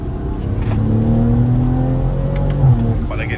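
A BMW M340 with all-wheel drive accelerates with a smooth, fairly quiet engine note rising in pitch under the cabin hum, heard from inside the car as people talk over it.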